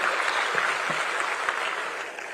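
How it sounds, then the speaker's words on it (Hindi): Audience clapping at an Indian public event, a crowd's dense applause holding steady and loud, with a few stray sharper claps and murmurs underneath. "आप सबकी जोरदार तालियों के साथ।"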